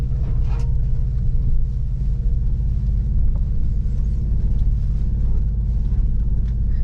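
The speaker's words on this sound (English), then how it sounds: "It sure sounds good for a little car" A 2021 Ford Bronco Sport's engine drones steadily from inside the cabin while driving, a continuous low rumble with a faint higher hum, no speech over it.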